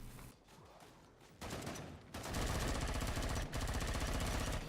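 Rapid automatic rifle fire in Killing Floor 2, a loud, dense stream of shots that starts in short bursts and swells into sustained continuous gunfire with only a brief break.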